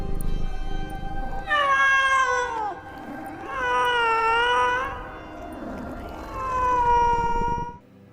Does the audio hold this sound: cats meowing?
yes